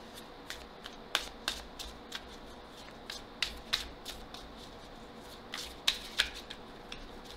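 Tarot cards being shuffled for a reading produce a quick run of crisp riffles and snaps in irregular bursts, close and fairly quiet, without any talking.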